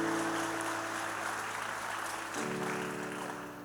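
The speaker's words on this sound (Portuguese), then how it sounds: "Quem recebe essa palavra, aplauda o nome do Senhor Jesus." A church congregation applauding with a soft, steady patter of many hands, moderately distant, while sustained organ-like tones play alongside and shift pitch partway through.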